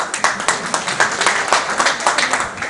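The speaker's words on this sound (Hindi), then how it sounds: "अब आप लोग जरूर तालियां बजा सकते हैं" A street-play audience claps together outdoors, a dense, fairly loud burst of applause with quick regular hand strikes lasting a few seconds, no voices over it.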